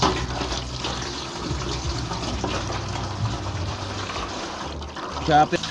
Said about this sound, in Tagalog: Lumakas na ulit yung tubig mga boys